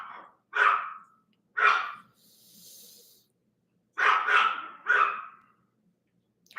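A dog barks in short, sharp bursts, one at a time and then a quick close double, fairly near and clear against quiet, with a soft breathy whine between barks.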